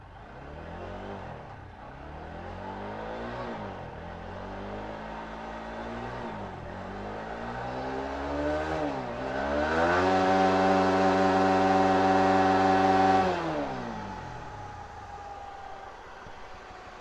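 Car pulling away in first gear, engine note climbing repeatedly as it revs up then drops, rising to a sustained high-revving drone before easing off, fairly close with no talk.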